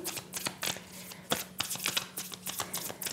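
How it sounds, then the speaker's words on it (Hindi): Close, quiet riffling and flicking of tarot cards during shuffling and drawing, uneven bursts of crisp paper slaps with no talking. "एक और कार्ड मैं निकालना चाहूँगी इन दोनों कार्ड्स के लिए"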